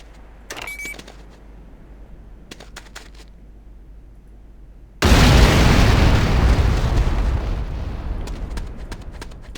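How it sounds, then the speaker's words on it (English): A C4 charge goes off in the Command & Conquer: Renegade tutorial: after quiet clicks and small taps, one sudden loud close blast is followed by a long roaring rumble that slowly fades. "fire to place the C4 charge on a target. Then, move to a safe distance before detonating with your secondary fire."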